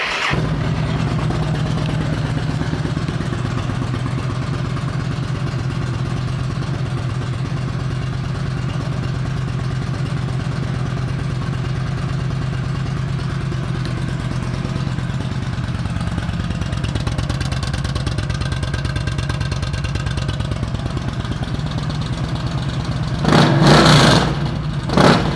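A 2013 Yamaha V Star 1300 Deluxe cruiser motorcycle idles steadily with a deep, even engine rumble for most of the stretch, then gives a couple of short throttle revs near the end, recorded close up with no talking.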